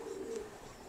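Imported pigeons on a pigeon farm in Naogaon give one faint, brief, soft coo under low background noise.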